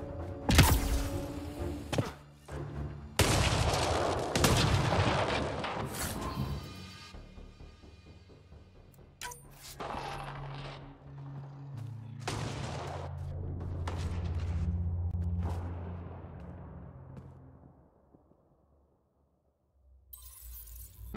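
Gunshots and heavy impacts ring out in Mass Effect Andromeda, starting with several loud cracks and thuds, then easing into lower rumbling game ambience that fades to near silence before a final burst.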